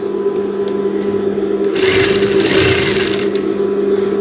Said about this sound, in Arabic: غادي نخيط الكتيف مع الكتيف